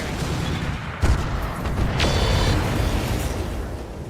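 Mech weapons fire in the RogueTech BattleTech video game, a steady roar of booming shots with a sharp impact early on and a sustained rumble throughout.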